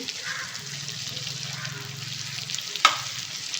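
Chicken sautéing with spices in a karahi gives a steady, moderate sizzle and crackle of hot oil, with a brief sharp clank of a utensil against the pan near the end.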